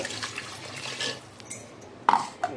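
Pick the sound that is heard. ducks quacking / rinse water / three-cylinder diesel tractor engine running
rinse water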